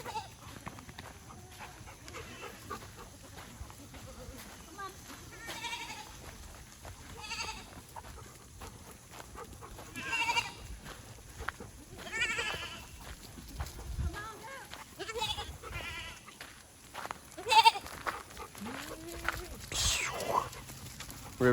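Goats in a herd bleat repeatedly, some near and some farther off, with hoof shuffling and someone talking between the calls.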